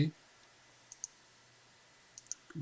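Mouse clicks in two quick pairs, sharp and close but quiet, separated by a stretch of near silence, with brief speech at the start and end.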